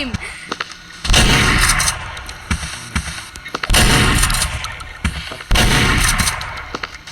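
Loud, booming gunfire rings out in the Roblox video game, with three heavy blasts spaced a few seconds apart and smaller quick shots between them, each echoing briefly before fading.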